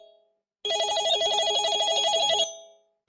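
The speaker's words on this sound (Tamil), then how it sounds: "முருகனுக்கு போன் கால் வருது, அப்பா கிட்ட இருந்து" A phone rings with an incoming call, a single continuous electronic ringtone burst lasting about two seconds, loud and close, alone with no talk.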